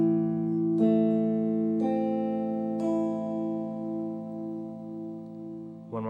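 A minor chord on guitar, with the first finger on C and the top string open, played as single notes one after another. Four clear plucked tones enter about a second apart and ring together, with a short sound near the end.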